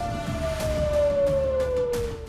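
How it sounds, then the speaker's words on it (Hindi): Air raid sirens wailing across Israel after a missile attack, one steady tone slowly sliding down in pitch over about two seconds, loud and alone without any voices. "इजराइल पर मिसाइल हमले के बाद पूरे इलाके में सायरन बज रहे थे।"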